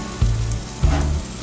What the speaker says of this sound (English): Cooking them on this old Griswold vintage cast iron skillet.